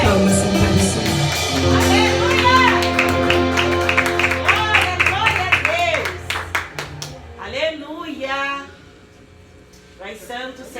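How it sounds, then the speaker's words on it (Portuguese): A church congregation claps steadily through a worship service, the repeated claps running beneath loud music and singing before fading near the end. "E as palmas são para o Senhor."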